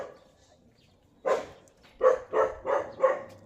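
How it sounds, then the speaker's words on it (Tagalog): Dogs on a farm barking, with one sharp bark followed by a quick run of four close, moderately loud barks over quiet background noise. "bakit ang mga aso ay active?"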